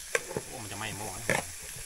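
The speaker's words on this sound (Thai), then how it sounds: "นี่จริงๆผัดผักไม่ต้องสุกมากนะ" Vegetables stir-fried in a pot over a low, non-adjustable heat source outdoors, with a steady close sizzle and a few sharp scraping stirs of the utensil against the pot.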